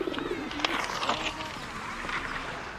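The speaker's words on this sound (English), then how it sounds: "the other pond birds, with all the quacking and the splashing that goes on all the time" Birds call near a lake in a park, with soft cooing and chirping calls and splashing movement. Heavy traffic sounds from a distant main road, and a voice talks over the birds.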